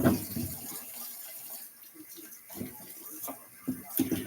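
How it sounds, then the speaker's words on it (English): Tap water runs into a sink while potatoes are washed. The watery splashing and rushing sits close, with brief surges of louder splashing, and no talk. "I am going to wash these off."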